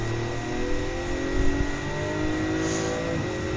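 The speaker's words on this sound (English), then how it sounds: "Just listen to the sound of this engine" Race car engine in the Gran Turismo 7 video game, a steady high-pitched drone with layered harmonics and small rises in pitch through a turn, loud and continuous with no talking.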